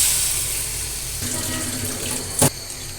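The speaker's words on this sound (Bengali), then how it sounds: "ঝোলের পানি দিয়ে দিলাম" Water pours steadily into a cooking pan over lightly fried potatoes to make the broth for an egg and potato curry, a continuous close splashing rush with a brief louder splash near the end.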